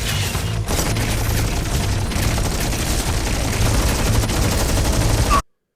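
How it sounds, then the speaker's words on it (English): Rapid, sustained Gatling gun fire from Vulcan units in the video game Stormgate, a dense, loud mechanical roar lasting several seconds before it cuts off sharply. "the two Vulcans, they have the Gatling gun, like a machine gun"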